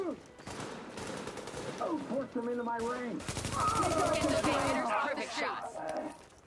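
Gunfire in The Division, the video game: rapid automatic bursts and single shots crackle in a dense run with short gaps, mixed with game sound effects, while a voice talks over the shooting.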